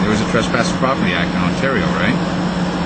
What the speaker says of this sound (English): That's a helicopter airplane just leaving.